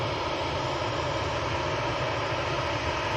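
A Ryanair airliner on approach at Manchester Airport passes low near a road with a steady, loud, broadband jet roar that holds evenly throughout, with no voices.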